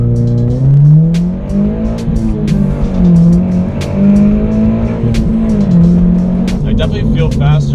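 A car engine revs hard at high RPM while the gear shifter rattles, a loud, steady, harmonic drone that rises and falls across the whole stretch.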